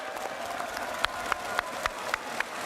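A few sharp hand claps spaced at a steady rhythm over a low crowd murmur, each clap close and distinct.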